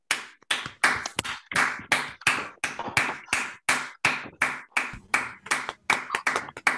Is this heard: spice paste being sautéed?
no